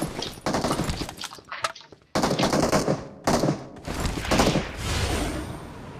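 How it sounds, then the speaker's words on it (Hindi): Bursts of gunfire from the BGMI battle royale video game, rapid repeated shots in several volleys separated by short gaps, fairly loud and without talk. "अभी सामने से हमको आ रहे थे गन साउंड तो हम इंस्टेंट उधर की ओर चल देते हैं।"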